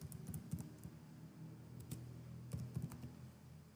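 Quick, soft keystrokes on a computer keyboard come in short bursts while a command is entered in RStudio, faint and close, with no speech.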